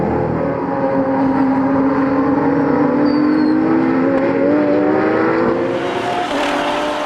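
Retro-liveried Porsche 911 race cars battle for position at the Ledenon circuit, a loud sustained engine drone with rising and shifting pitch as the cars hold revs through the corners, heard close and continuous without speech.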